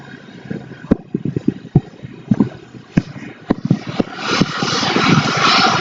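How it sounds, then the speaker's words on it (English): A person flying with jet engines strapped on, heard far off as a rising roar building over several seconds, mixed with wind buffeting and sharp handling knocks near the microphone. "That is a human being strapped to jet engines."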